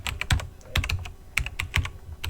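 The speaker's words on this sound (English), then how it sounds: "go ahead and type in terrain" Keys clatter on a computer keyboard in a quick, uneven burst of close, crisp clicks, with short pauses between clusters of strokes.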